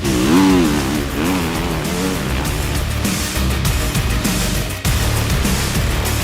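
A KTM 350 EXC-F Wess limited edition dirt bike engine revs loud and close, rising and falling with a brief cut-out near the end.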